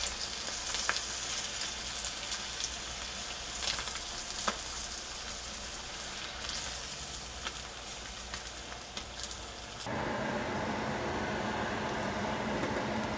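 Grunion fish frying in hot oil, a steady close sizzle and crackle with scattered pops throughout, the frying noise growing fuller and denser near the end.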